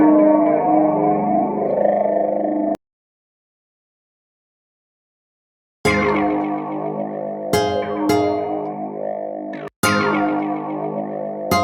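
A dreamy melody sample processed with heavy delay, distortion and chorus-like effects, playing loudly, cutting to silence for about three seconds, then returning in stuttering bursts with abrupt chopped restarts.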